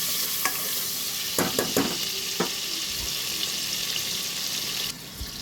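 Vegetables added to hot oil with spices sizzle steadily in a pan, with several sharp scraping clatters from stirring over the continuous frying hiss.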